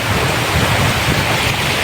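Floodwater flows around and into village houses, a loud steady rushing wash of water with wind buffeting the microphone, no voices.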